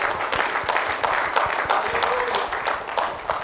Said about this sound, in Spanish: Espero que siga aplaudiendo después de ahorita